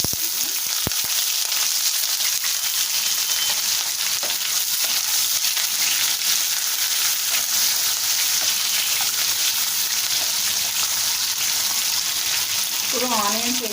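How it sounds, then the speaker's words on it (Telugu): Onions frying in a pan for tomato methi curry, a steady bright sizzle that holds throughout with faint stirring scrapes and a brief clatter near the end. "ఇప్పుడు ఇందులోకి ఆనియన్స్"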